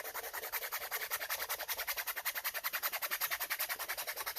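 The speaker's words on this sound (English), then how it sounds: "you can just use your emery board and just give it a light sanding all the way around," Quick, even back-and-forth rasping of an emery board lightly sanding hardened resin, close up and rhythmic, about eight strokes a second.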